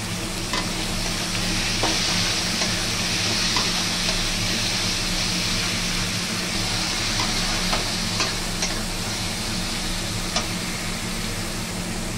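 Ginger garlic paste and tomato fry in a pan for a kathal seed curry, giving a steady, even sizzle throughout with a few faint clicks of stirring.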